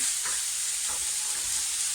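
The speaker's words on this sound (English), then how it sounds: "we're frying our mince" Mince sizzles steadily in a hot pan, a continuous bright frying hiss with faint stirring scrapes, no voices.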